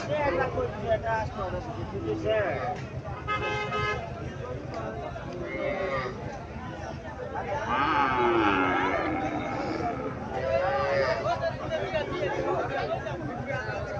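Local Bangladeshi cows lowing a few times amid a busy cattle market crowd in Cumilla, with people talking loudly and continuously nearby.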